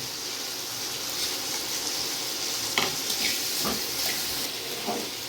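Steady sizzling of salted potatoes frying in hot oil, with occasional scraping stirs and a few brief clinks, fairly close and continuous.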